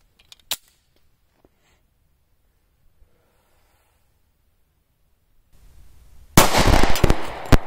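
A G2 Research Telos .45 ACP round fired into a melon outdoors gives one sharp, loud crack. A long quiet stretch follows, then a loud, rough burst of noise near the end.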